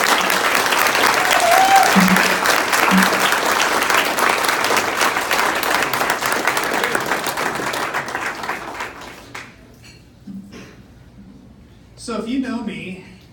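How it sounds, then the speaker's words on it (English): A crowd applauds sheriff candidate Will Akin with loud, sustained clapping that fades after about nine seconds, followed by scattered claps, some murmuring, and a brief voice near the end. "let's give him a round of applause"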